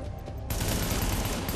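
Gunfire in a firefight in Tom Clancy's The Division, first muffled and then a sudden burst of loud, dense, rapid shots that carries on without a break.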